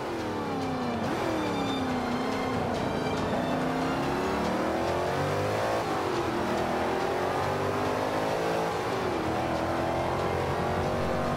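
A Ford Shelby muscle car in the racing game Forza 5 revs hard through repeated gear changes, its engine pitch climbing and dropping in long sweeps, loud and close, with no voices.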